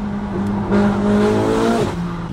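A tuned 800 hp Ferrari 488 GTB engine roars close and loud, holding a strong, even drone for more than a second before the note drops off sharply.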